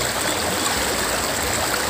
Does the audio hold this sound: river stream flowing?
yes